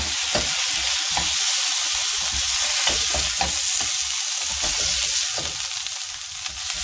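Browned veal pieces for veal Marengo sizzle and spit loudly as they are transferred into a casserole pot, with steady frying hiss and occasional stirring and scraping knocks close by.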